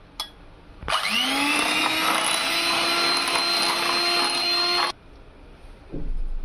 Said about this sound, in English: here I have gone ahead and given this a good whisk